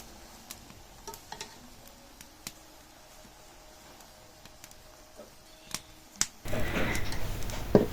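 Red amaranth greens cooking on a village clay stove while being stirred: sparse scraping clicks over a quiet background, then a louder burst of rustling stir and sizzle near the end.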